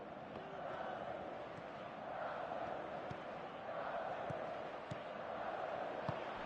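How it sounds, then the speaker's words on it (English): Stadium crowd noise from the football video game PES 2018, a steady roar of spectators that swells and settles throughout, with occasional thuds and faint commentary-like voices beneath. "you can feel and hear how the crowd are reacting to all of this"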